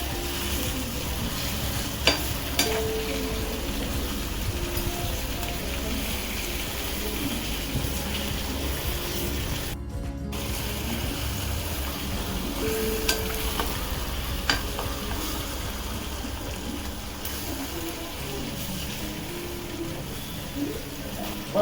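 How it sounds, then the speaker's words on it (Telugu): Fish pieces fry in oil in a pan for a tomato fish curry, a steady soft sizzle running throughout with occasional stirring clatter and no talking. "ముక్కలు కూడా కలుపుకొని కొంచెం ఆయిల్లో ఫ్రై అయ్యేకుంది."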